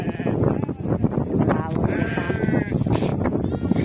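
Sheep bleat repeatedly as they are let out of their pen on a farm, several wavering calls rising close by over a busy, continuous background of shuffling and movement, with a faint voice briefly present.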